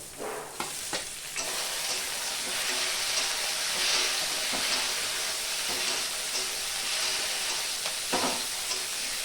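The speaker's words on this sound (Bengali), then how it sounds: "টমেটো কুচিটা একটু ভালো করে ভেজে নেব" Chopped tomato fries in hot oil with onion, garlic, ginger and chili for an egg masala, giving a dense, steady sizzle with occasional sharp spatula scrapes and stirring knocks, close and loud with no talking.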